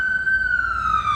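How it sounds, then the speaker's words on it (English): Emergency vehicle sirens wail steadily in downtown Kalamazoo, Michigan, as responders race to a car accident, a loud, clear tone sliding slowly downward in pitch over a low traffic rumble. "Excuse the sirens."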